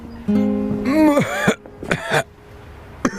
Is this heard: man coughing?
yes